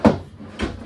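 An RV kitchen drawer in a 2023 Keystone Cougar 354FLS travel trailer slides and bumps twice, two short, close wooden thuds about half a second apart.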